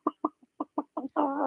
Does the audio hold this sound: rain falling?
no